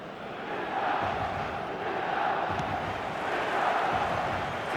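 Stadium crowd in the eFootball football game before kick-off, a steady distant roar of thousands of fans with swelling chants and cheering, continuous and moderately faint.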